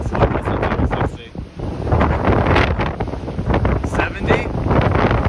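Strong gusty wind roars against the microphone during a severe-thunderstorm high wind event with gusts near 60 mph, a loud, continuous buffeting rush that surges and dips.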